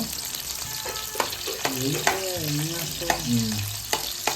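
Onions and green chillies frying in a pan for a country chicken pulao, a steady close sizzle with occasional stirring clinks, while a faint high whine rises and falls in the background.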